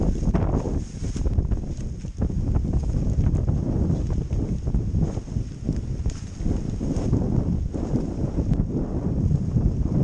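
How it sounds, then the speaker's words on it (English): Strong wind blowing across an exposed stretch of the Puna Coast in Hawaii, buffeting the microphone in continuous loud gusts and rough roaring bursts, with no voices. "It breaks up most of the wind over here."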